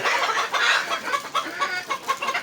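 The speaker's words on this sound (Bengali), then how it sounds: "মুরগিগুলো।" A brief burst of hens clucking close by, rapid overlapping calls in quick pulses.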